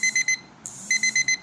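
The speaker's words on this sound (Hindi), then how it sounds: "सॉरी, अगेन आज अलार्म बज गया।" An alarm beeps in rapid electronic pulses, groups of three, then a short pause, then a run of five more, sharp, clear and close with a faint hum beneath.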